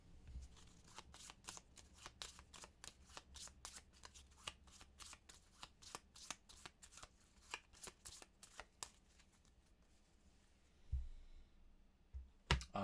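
Deck of cards for the board game Hard City being shuffled repeatedly, a steady run of crisp riffle and card-snapping clicks up close, with a few soft knocks near the end and no talking.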